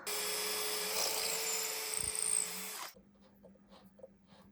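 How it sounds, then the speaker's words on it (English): A power drill whines at high speed for about three seconds, steady and close, then stops, leaving quiet room noise. "Now with the bigger drill."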